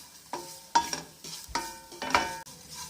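Beaten rice (aval) dry-roasting in a pan, stirred in several bursts of scraping and rustling with brief pauses between, close and moderately loud, no voices.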